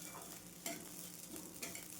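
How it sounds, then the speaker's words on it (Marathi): Amaranth (rajgira) grains roasting and being stirred in a hot kadhai, a soft continuous sizzle and rustle with occasional scraping strokes, close and fairly quiet, with no talking. "तर इथे मी राजगिरा भाजून घेते."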